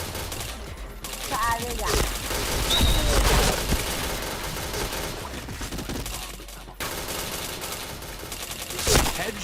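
Rapid bursts of gunfire from a video game shooter ring out repeatedly at close range, with excited voices talking and shouting over the shots throughout.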